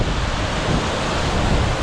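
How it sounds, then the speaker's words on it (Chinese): Mountain stream pouring over a small three-metre waterfall at a creek confluence: a dense, unbroken rushing roar, loud and close, with no voices. "就是前方是3米的瀑布"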